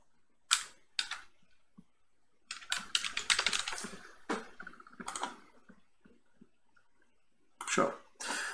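A password is typed on a computer keyboard in short bursts of quick, close key clicks separated by pauses, with a person talking briefly.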